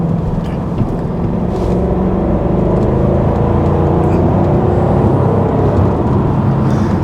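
A Jaguar XKR with a 510bhp supercharged engine pulls hard under acceleration, a steady, loud, deep roar with a rushing whir that holds throughout, close and unbroken.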